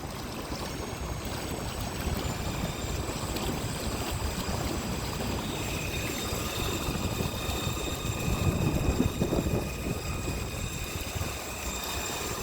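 A Torqeedo electric outboard motor with a 915 Wh battery running under light throttle on a sailboat, a soft steady hum with faint high whine tones over constant water rush, fairly quiet and even.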